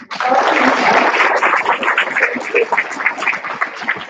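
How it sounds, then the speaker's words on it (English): An audience applauds at a Utah chapter meeting of a procurement association, a dense, sustained wash of clapping that starts abruptly and holds steady, then thins and tapers toward the end. "can we get another round of applause for me?"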